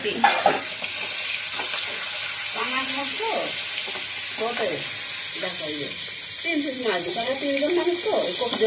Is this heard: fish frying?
yes